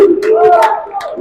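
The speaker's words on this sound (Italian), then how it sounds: "Si alza il tifo qui al Palantenore." Fans in the Palantenore arena cheer and chant during a Kioene versus CUS Venezia volleyball cup match, loud sustained voices close by with rising and falling tones.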